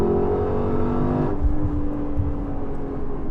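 A Lexus LC500's V8 engine accelerates hard after a downshift into third, a loud, rich droning roar with strong low harmonics that climbs and shifts as the car pulls, heard from inside with no talk.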